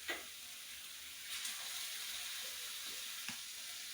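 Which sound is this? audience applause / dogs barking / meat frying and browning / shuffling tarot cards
meat frying and browning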